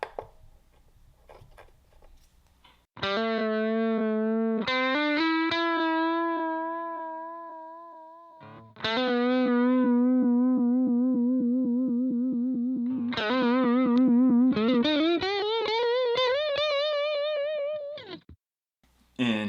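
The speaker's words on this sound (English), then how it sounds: "And this is the vibrato effect" A Leo Jaymz Silverbox multi-effects guitar pedal with a vibrato modulation effect, heard as several sustained guitar notes and chords with a clear wavering pitch that speeds up, loud and close, separated by brief silences.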